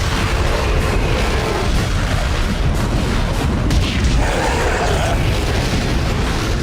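A modified force gun merged with a flamethrower, damage fully upgraded, firing in Dead Space: a continuous loud roaring blast of fire and booming bursts, sustained and dense throughout with no pauses.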